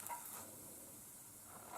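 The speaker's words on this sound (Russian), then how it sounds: "На сухую прямо жарим эту лепешку." Flatbread cooking in a dry pan with no oil, giving a faint, steady low sizzle and light hiss that runs alone and unchanged throughout.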